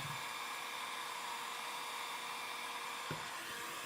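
A heat gun warming a vinyl graphic on a 2017 Honda CRF450 side number plate gives off a steady, even blowing hiss. A short louder bump comes near the end.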